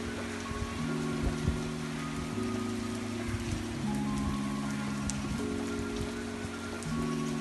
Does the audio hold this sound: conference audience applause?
no